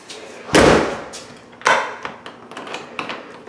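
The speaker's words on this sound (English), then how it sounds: "Entering back door." A back door opens and closes inside a house, a loud thump followed by a second knock and several lighter latch clicks and taps, close by with no talking.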